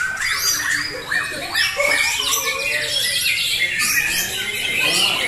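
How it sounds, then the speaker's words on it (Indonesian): White-rumped shama songbirds (murai batu) compete at a hanging-perch singing contest in Cikeas, pouring out busy, overlapping whistles, trills and chirps that run on throughout, with faint human sounds in the background. "pertarungan burung murai batu berkualitas, saling tembak-tembakan bongkar isian"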